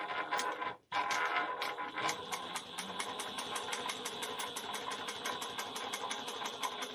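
Sewing machine stitching a seam on a fabric bag, a steady fast mechanical chatter of the needle running continuously at close range after a brief stop near the start.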